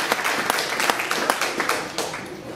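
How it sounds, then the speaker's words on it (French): Audience applause for a cosplayer on stage at a Vocaloid cosplay contest, a loose mix of claps with a few louder individual hits standing out, moderately near and steady through the whole span. "On applaudit très très fort."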